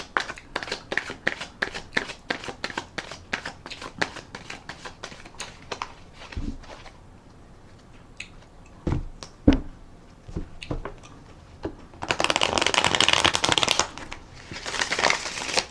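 Tarot deck being shuffled by hand, a long run of crisp card clicks and slaps, then a dense riffle burst of rapidly fluttering cards near the end, close and clear with no talk.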